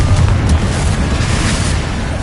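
A Confringo fire spell explodes in the video game Hogwarts Legacy, giving a loud, deep, rumbling boom that keeps roaring with no clear break for the whole stretch.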